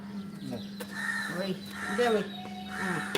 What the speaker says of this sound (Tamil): ஐ காக்கா அண்ணா வந்துட்டாங்க